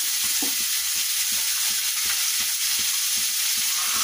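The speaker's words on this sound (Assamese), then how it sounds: "এতিয়া অলপ সময় 10 মিনিট সময় লাৰি চাৰি অলপ ভাজি লওঁ।" Spices and dry fish sizzle in a hot pan with a loud, constant frying hiss, while a spatula stirs them in repeated rhythmic scrapes and knocks. No one speaks.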